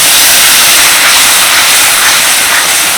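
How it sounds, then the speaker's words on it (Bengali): Spice-rinse water poured into a pan of broiler chicken masala, sizzling as a loud, steady, close hiss that fills the whole moment without a break. "এবার দিয়ে দিচ্ছি মশলা ধোয়া জল।"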